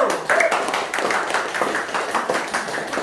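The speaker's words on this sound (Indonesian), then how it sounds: "tepuk tangan untuk kelompok 1" A class of primary school pupils claps steadily for a group, a dense patter of hands filling the classroom, moderately loud and continuous for a few seconds.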